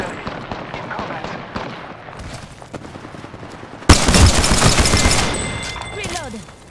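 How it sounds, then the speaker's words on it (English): Gunfire in a battle royale video game: rapid popping shots build into a dense, loud burst of automatic fire partway through, with scattered cracks and reverberation trailing off. "Gun fire."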